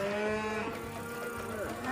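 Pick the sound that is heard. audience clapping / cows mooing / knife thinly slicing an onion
cows mooing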